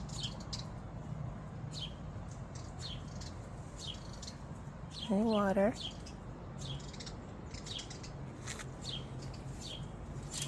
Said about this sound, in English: This one brings a different type of bird, I believe orioles.